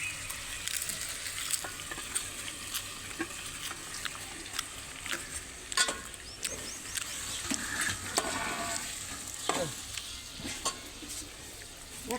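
Stuffed gunda fruit fries in a masala thinned with a little water over a low flame, giving a steady close sizzle and a patter of stirring scrapes throughout.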